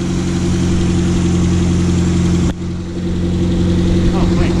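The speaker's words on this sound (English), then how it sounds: "Figured we'd show you the lope of this rotary." A car's rotary engine idles high with a steady, loud, throaty drone and a slight lope, and its level dips briefly midway before settling back.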